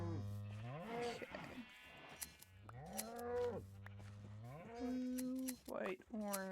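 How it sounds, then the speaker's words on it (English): Sheep bleating in a farming video game, a series of drawn-out, wavering animal cries repeating one after another, close and fairly loud with music or tones running underneath. "I gotta wait for the baby sheep to grow"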